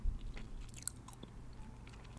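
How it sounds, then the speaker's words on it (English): Close-up gum chewing, soft wet smacks and small crunchy clicks in an irregular rhythm, quiet and intimate with no talking. "I'm gonna do a soft spoken gum chewing video for you all today."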